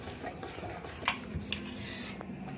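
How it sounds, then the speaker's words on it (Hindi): Cooked lentils and taro being mashed in a pot, a utensil scraping and stirring with a few sharp metallic clinks over a low steady rumble. "दाल घोट रही हूँ, दाल घोट के बघारने का तड़का लगाना"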